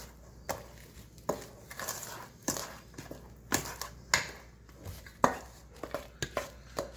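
Chocolate quick bread batter being mixed by hand in a bowl, a series of irregular knocks and scraping clatters of utensil against the bowl, close and moderately loud, with no voices.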